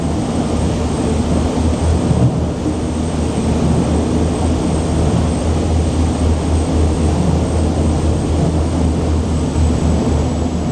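A Safehaven Marine Voyager T2000 yacht with MAN V12 engines runs at about 30 knots, giving a loud, steady low engine drone with constant rushing wash.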